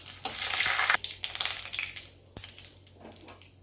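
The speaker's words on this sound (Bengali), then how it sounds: "এবার ফোড়নে দিচ্ছি শুকনো লঙ্কা তেজপাতা আর গোটা জিরে" Dry red chillies, bay leaf and whole cumin hit hot oil for a Bengali dal tempering, bursting into a loud sizzle that fades into softer crackling and stirring, with a sharp knock partway through.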